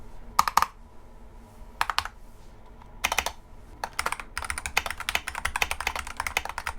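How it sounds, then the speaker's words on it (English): Someone types on a Vortex Macintosh replica keyboard with Gateron G Pro retro white switches. Crisp keystrokes come first in short scattered bursts, then in a quicker continuous run, close up and fairly quiet. "the Vortex Macintosh replica keyboard, which has Gateron G Pro retro white switches"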